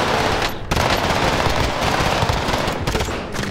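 Rapid automatic gunfire from Call of Duty: Warzone rattles in loud, dense bursts, with brief gaps between the volleys and nearly no talk.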